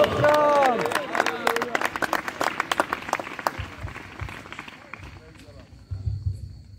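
A church congregation claps loudly in a fast, dense burst at first, then the clapping thins into scattered claps and fades, with voices calling out over it.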